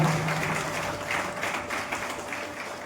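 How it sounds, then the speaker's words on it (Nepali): Applause from a church congregation at a church inauguration, a steady broadband patter of many hands clapping together for about three seconds at moderate level, with no talk over it. "हामी एकताल जोरदार ताली बजाएर हामी उहाँलाई धन्यवाद आभार प्रकट गर्दछौँ"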